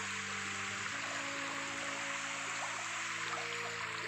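A natural stream runs past rice fields, its water rushing in a steady, even wash that carries on unbroken with no talk over it.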